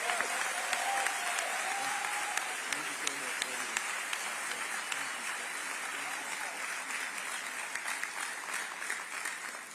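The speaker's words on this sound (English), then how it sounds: "Let's give him another round of applause" Graduation ceremony audience claps for a salutatorian in a long, steady round of applause, dense and even, with distinct sharp claps poking through and a slight easing toward the end.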